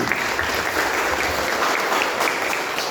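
Sustained applause from a crowd, steady dense clapping throughout with no pauses, fairly loud and close.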